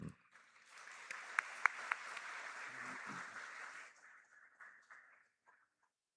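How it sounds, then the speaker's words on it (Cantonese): A church congregation at a Sunday worship service applauds to welcome a guest speaker, a dense wash of clapping lasting about four seconds before thinning out and fading to silence. "和好的使命，我哋以你嘅掌聲咧歡迎佢"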